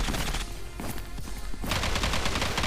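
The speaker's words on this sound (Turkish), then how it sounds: "Cidden aşırı fazla silah ses olduğu için evet." P90 submachine gun fire in the mobile shooter Zula, loud rapid bursts broken by a short gap before more sustained automatic firing.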